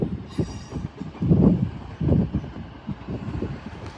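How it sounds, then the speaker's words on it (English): Northern Trains Class 156 diesel unit arriving at platform 6 on a terminating service from Middlesbrough, with a low rumbling engine and rhythmic wheel thumps over rail joints, heard fairly close at moderate volume. "Arriving in now is a terminating Northern Trains Class 156, working a service from Middlesbrough on platform number 6"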